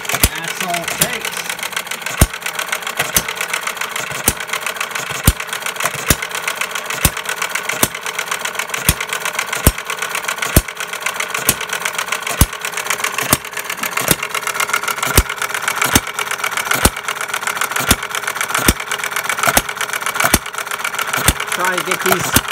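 A 1/3 scale gas-powered Breisch Associated Hired Man hit-and-miss engine runs nearby, firing in sharp regular pops about once a second over a mechanical clatter and hum, steady for the whole stretch.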